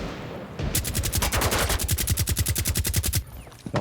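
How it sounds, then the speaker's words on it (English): A rapid automatic weapon burst in Rainbow Six Siege, a steady stream of closely spaced sharp shots lasting about three seconds, loud and near, with no speech. "Don't mind me shooting absolutely nothing there for a second."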